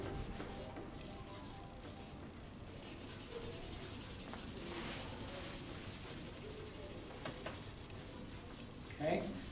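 Pencil shading on toned paper is blended with a soft, continuous rubbing and scratching texture, faint and close, with a brief louder scrape near the end.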